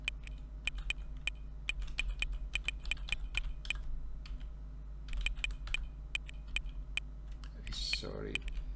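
Fingers tap quickly on a computer keyboard, producing crisp, irregular clicks in short bursts with a few pauses. A soft rustle follows near the end, all in a quiet room.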